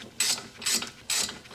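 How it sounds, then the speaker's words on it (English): A ratchet turns a 14 millimeter bolt during a five-lug swap on an Accord coupe, making three quick bursts of close, crisp ratcheting clicks evenly spaced with short pauses between them. "Tighten that 14 millimeter bolt."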